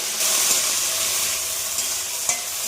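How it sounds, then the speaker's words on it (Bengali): Yardlong beans fry in a pan with salt and turmeric, giving a close, steady sizzle with occasional light stirring clicks and no talk. "এবার আমরা বরবটিগুলোকে ভালো করে ভেজে নেব"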